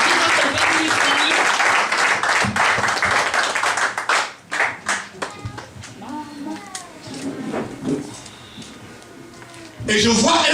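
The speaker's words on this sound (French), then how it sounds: "Clap for Jesus for the person who is coming." A church congregation claps for Jesus during a deliverance and prophecy service, loud sustained applause that thins into scattered claps and voices, then surges again at the end, with people talking throughout.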